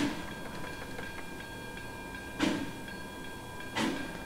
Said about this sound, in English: the chuff sounds are pretty typical of K&L